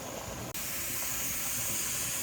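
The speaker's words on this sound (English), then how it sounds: "We have had 10 minutes of steady stream of steam coming out of the pipe" Steam vents in a steady, loud hiss from the pipe of a pressure canner used for canning meat, a brief dip near the start and then a continuous close rush with no talk.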